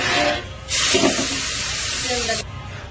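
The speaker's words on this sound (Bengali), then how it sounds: "নেড়ে চেড়ে দিচ্ছি" Meat stirred with fried onions in a pan gives a loud burst of hissing sizzle lasting under two seconds, with a voice heard before and after.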